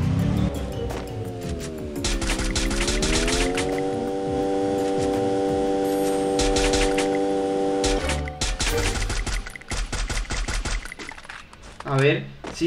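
A vehicle in the Free Fire shooter game hums with a steady engine drone that swells and rises in pitch, then gives way to bursts of rapid gunfire and clattering game effects.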